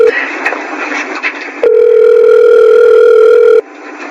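A cellphone call ringback tone, with a steady electronic tone holding for about two seconds after a burst of lower tone, loud and alone with no voices.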